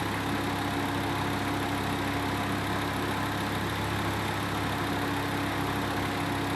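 A Volkswagen MK5 with the 2.5 engine runs noisily after sitting unused, a steady loud drone with a constant rattling texture and no change in pace or pitch.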